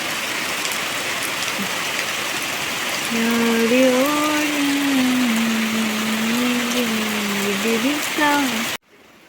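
Heavy rain falling steadily as a loud, continuous wash of noise, with a voice speaking or calling over it for several seconds before the sound cuts off abruptly.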